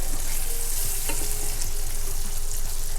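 Thin pieces of fish for tacos fry loudly in a hot pan, giving a dense, close crackling sizzle with a few spatters, and no voices are heard.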